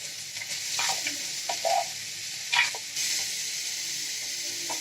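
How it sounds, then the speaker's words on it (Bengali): Papaya pieces sizzle softly in hot oil with dried red chillies, bay leaves and a cumin tempering, with a steady hiss broken by a few scraping stirs of a spoon in the pan. "পেঁপেগুলো আমি একটু ভাজা ভাজা করে নেব"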